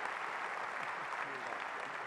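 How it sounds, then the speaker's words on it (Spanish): An audience at the opening ceremony of a festival applauds in a steady, dense wash of clapping that holds at an even level throughout. "Otro aplauso, señores."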